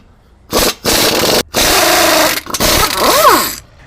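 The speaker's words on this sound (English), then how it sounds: "We're going to get started here with 11/16 air gun. Loosen your sway bar bracket." An 11/16 air impact gun loosens the sway bar bracket bolts on a 2021+ Ford E450 V8 chassis. Several loud, close rattling bursts are separated by brief pauses, and a whining spin-down comes near the end.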